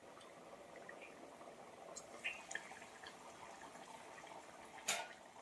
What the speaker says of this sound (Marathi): छान मस्त उकल आली.